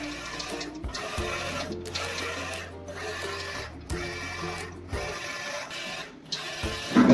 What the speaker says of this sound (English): Printing has started.